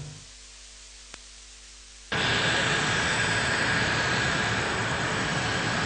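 Airplane noise at Maya Maya International Airport during a night cargo arrival carrying medical supplies, starting with a faint hum, then a sudden loud, steady jet engine roar that fills the rest of the clip.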